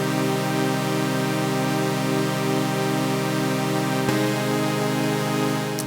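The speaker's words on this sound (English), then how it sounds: "I've pitched one of those up by an octave as well" A CS80-style synth pad in Krotos Concept, one oscillator pitched up an octave, sustains a thick, evenly loud tone that shifts to a new note near the end before cutting off abruptly.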